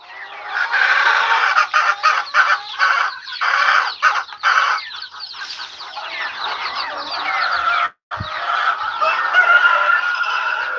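A dense, continuous chorus of young chicks clucking and cheeping as they are fed chick crumble, loud and close with a brief gap near the end.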